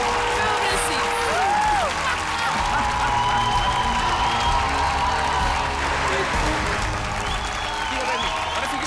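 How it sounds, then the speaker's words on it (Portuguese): A studio audience applauds and cheers for a singer at a televised blind-audition singing contest, steady dense clapping with scattered whoops, while voices talk over the noise. "Uma salva de palmas para a Bárbara."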